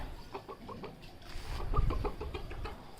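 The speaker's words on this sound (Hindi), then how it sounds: "ये आ गई, ये छोटी मुर्गी आ गई।" An Aseel hen clucks in short, repeated bursts with some scratchy farmyard noise around it, fairly close and moderately loud.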